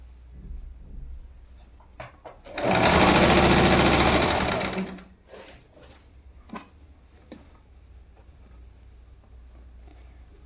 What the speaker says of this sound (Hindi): आर्म होल की सिलाई करेंगे।